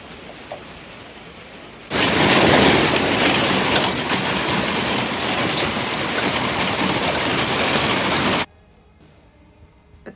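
A sudden roar of heavy hail or rain pounding a surface, loud and continuous for several seconds before cutting off abruptly to near quiet.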